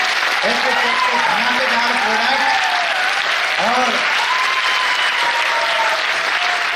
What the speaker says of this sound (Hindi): तो चलिए एक बार जोरदार तालियों के साथ वेलकम करते हैं